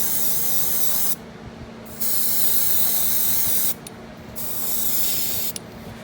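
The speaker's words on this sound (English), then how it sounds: "this is the French blue in the airbrush" An airbrush sprays French blue paint over white in steady, loud hissing bursts, with two brief pauses where the spray cuts off before resuming.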